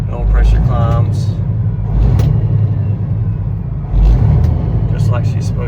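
A 12.7L Detroit diesel in a 2014 Peterbilt 389 glider runs with a deep, loud, close rumble that swells slightly with the revs, while someone talks over it.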